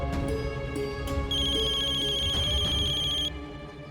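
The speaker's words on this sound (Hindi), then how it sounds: "क्या हुआ कल्याणी, क्यों बार बार फोन कर रही हो?" A telephone rings in a TV drama scene with a steady, loud electronic ringtone that holds for a couple of seconds before cutting off, over a soft background bed.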